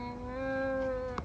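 A cat gives one steady, drawn-out meow at close range while being fed cake at a home birthday, with no talk over it.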